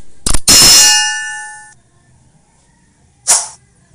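A subscribe-bell intro effect: a sharp click, then a bright metallic bell clang ringing out and fading over about a second, followed later by a short whooshing swipe, loud against near silence.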